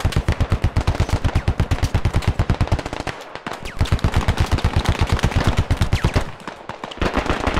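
Rapid sustained automatic gunfire in the military shooter game Squad, rattling in fast even bursts with a brief pause near the middle, loud and dominant with no talk over it.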